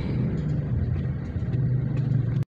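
Steady road traffic rumble heard from inside a car in slow traffic, a continuous low engine drone that cuts off abruptly at the end.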